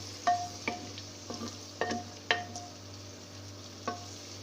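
Onions cook in a handi pot for Peshawri namkeen gosht, giving a soft steady sizzle broken by several sharp scrapes and clinks as a spoon stirs them.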